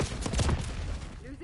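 A shotgun blast from Call of Duty Black Ops 6 gameplay, a loud burst of gunfire lasting about a second and then fading into quieter game ambience.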